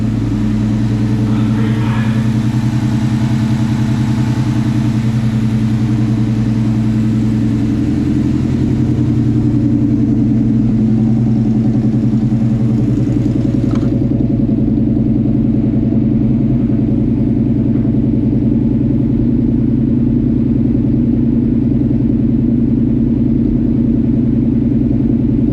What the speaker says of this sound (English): First time hearing the exhaust.